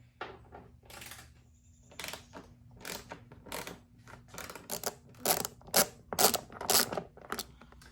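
10mm socket on a ratchet backing out the seat bolts of a 2005 Honda CRF450R, a string of quiet, close clicks and metallic ticks that speed up and grow slightly louder toward the end, with no voices.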